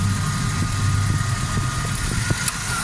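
A Suzuki Alto 1000cc VXR engine idles steadily with the air conditioning running, a continuous low hum and fan whir close by with no talking.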